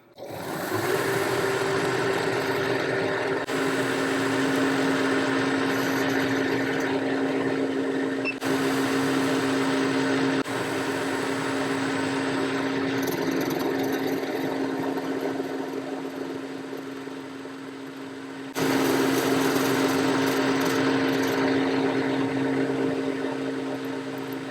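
Lathe turning an internal sphere with a spherical cutting tool, run in reverse to cut on the back side: a steady, loud mechanical whir with a constant hum, brief dropouts and shifts in tone throughout, no talk.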